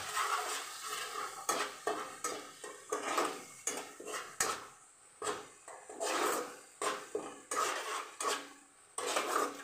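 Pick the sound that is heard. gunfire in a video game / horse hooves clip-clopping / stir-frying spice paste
stir-frying spice paste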